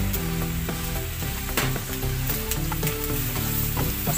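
Adobo sizzles loudly and steadily in a pan while a spoon stirs it, with irregular scraping knocks over the constant frying hiss.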